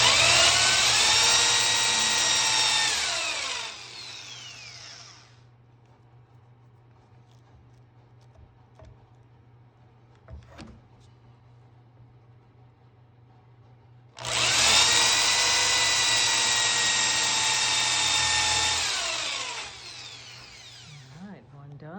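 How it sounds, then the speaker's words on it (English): Power drill boring into a wooden chair post, two long high-pitched whirring runs separated by a quiet pause, close and loud, with voices talking in between. "The drill's perpendicular to the post."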